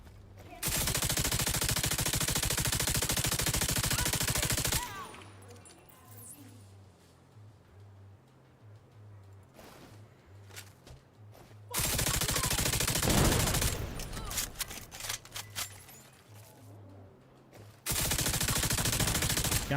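Video game gunfire from an enemy shooter: long loud bursts of rapid automatic shots in two main stretches with a quieter gap of scattered single shots and clicks between, then another burst at the end.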